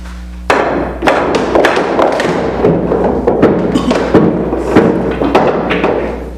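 Pool balls struck during a billiards speed-shot demonstration, giving a run of sharp clacks and thuds at an uneven pace, close and fairly loud, with no talking.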